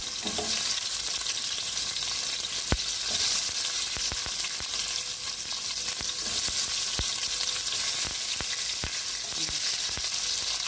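Garlic and onion sizzle steadily in oil in a pan while an Arabic machbous dish with meat is made, a dense continuous frying hiss broken by occasional sharp clicks of stirring.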